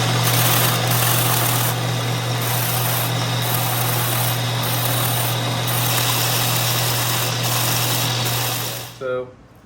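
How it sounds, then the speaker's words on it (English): A power sander trims the wooden sides of an acoustic guitar during a build, droning loud and steady with a constant hum, then winding down and stopping just before the end. "I'll just use the sander right quick and we'll trim those down."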